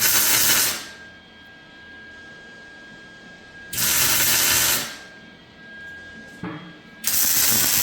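Welding up a car chassis produces three loud bursts of hissing, crackling arc noise, each lasting about a second, separated by quieter stretches of low background hum.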